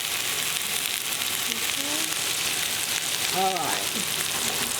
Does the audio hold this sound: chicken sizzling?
yes